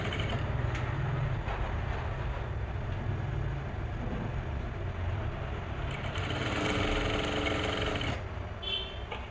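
A sewing machine runs steadily up close, stitching the centre seam of a lehenga blouse, its motor whirring with a dense mechanical drone that carries on without a break and without voices.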